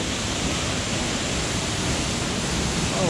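A waterfall roars as a dense, steady rush of white noise that fills the whole clip, close and unbroken.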